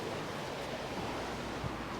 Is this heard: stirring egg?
no